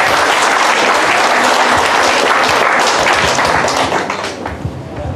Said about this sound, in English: Let's give God a clap offering for his life.